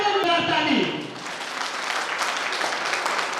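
A seminar audience at a large business meeting breaks into sustained applause, loud at first with a brief vocal trace, then steady dense clapping throughout.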